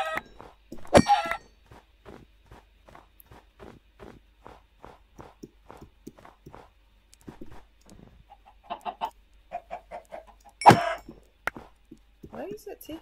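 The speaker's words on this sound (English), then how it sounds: "Taking so long to casually kill these chickens." Chickens in a video game cluck repeatedly alongside a steady run of soft footsteps, with a couple of sharp thuds and clusters of clucking near the middle and end.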